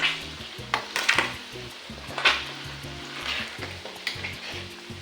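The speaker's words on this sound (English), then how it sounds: "I fry until golden brown" Pieces of tripe (matubo) fry in hot oil in a pan until golden brown, giving a continuous crackling sizzle with occasional louder pops and light utensil clinks, close up and without speech.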